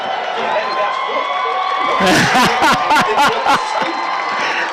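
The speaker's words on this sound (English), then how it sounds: "Our crowd cheers there." The home crowd at a high school football game lets out a loud burst of cheering and whooping that swells over an ongoing murmur, with a nearby voice talking over it.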